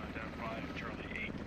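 Helicopter rotors drone steadily in the military shooter SquadOps, a continuous broad whirring wash with a low throb, while people talk over it.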